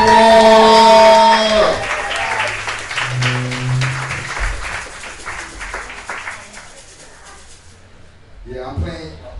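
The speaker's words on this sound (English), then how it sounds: "Let me get a round of applause for Abenigua." At a live poetry event at the Five Spot, audience clapping starts up after a loud tonal sound and carries on at moderate level. Voices and cheering mix in, and the clapping fades toward the end.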